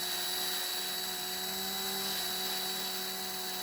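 A small rotary tool grinds steadily at the top of a rivet on a Matchbox No. 11 scaffolding truck, a continuous high-pitched whine held close and alone for the whole stretch.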